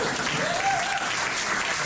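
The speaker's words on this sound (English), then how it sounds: "you can clap for that" Audience clapping at a live folk concert, a steady wash of applause filling the room on its own, fairly close and even throughout with no voices.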